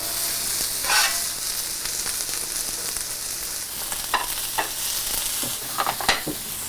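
Onions frying in oil on a hot griddle set over two burners, a continuous close sizzle broken by scattered sharp crackles and the scrape of stirring, with no talking.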